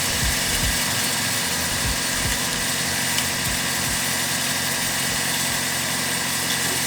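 A Suzuki Swift GLX 1.5 idles steadily with a constant low rumble and a faint vibrating hum, unchanging and alone, with rain and outdoor noise faintly under it.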